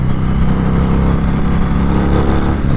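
A 2021 Harley-Davidson Fat Bob with an 1800cc engine revs high, a loud, steady, dense engine roar held close throughout, with no talk over it.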